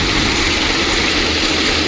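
A loud irrigation motor engine runs steadily nearby in flooded farm fields, a constant rumbling drone with no pauses.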